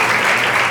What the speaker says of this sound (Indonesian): beri tepuk tangan kemuliaan dulu buat Tuhan